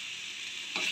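Ivy gourd frying in oil with curry leaves gives a steady, bright sizzle close by, swelling louder near the end, with no voices.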